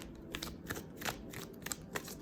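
Tarot-style angel answers cards being shuffled by hand, soft papery riffles and flicks in quick irregular bursts, close but quiet, with no talking.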